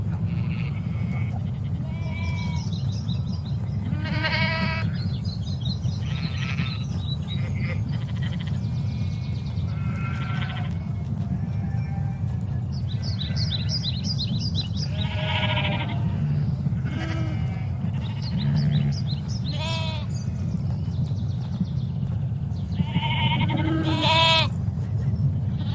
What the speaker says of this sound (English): The sheep are dancing at the moment,